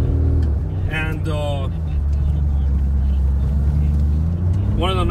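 A 2014 Ford Explorer police interceptor with automatic transmission driving, its engine a steady low drone and road rumble throughout, with someone talking over it.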